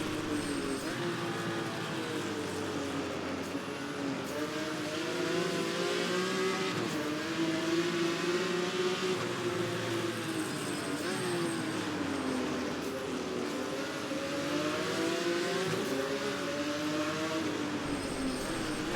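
A Jaguar XJ13 race car at speed on a circuit heading into Hawthorns: a loud, close engine note that rises and falls steadily through gear changes and revs for the whole stretch, with no other sounds.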